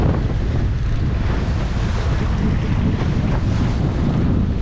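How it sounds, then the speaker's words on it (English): Strong wind buffets a fishing boat on choppy sea with whitecaps, a steady loud roar of gusts and wave wash under the hull, continuous throughout with no talking. "That wind's pushed up, a few white caps"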